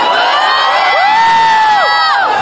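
A college crowd at a promotional event cheers and screams loudly, with high rising whoops and shrieks swelling together for a couple of seconds.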